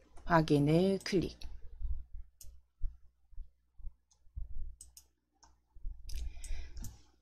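Sharp mouse clicks on a confirm button in an Excel spreadsheet, a handful of separate, evenly spaced taps heard close up and mostly alone, with a burst of speech at the start and end.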